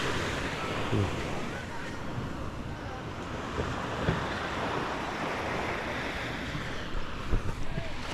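Steady wash of sea waves and surf with wind buffeting the microphone, a continuous outdoor roar with faint talk mixed in.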